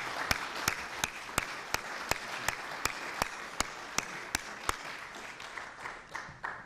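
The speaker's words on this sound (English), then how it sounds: "How about a good round of applause for our panel?" An audience at a gun control debate applauds the panel, a thin, sparse round of clapping with a few sharp, evenly spaced claps standing out close by before it fades.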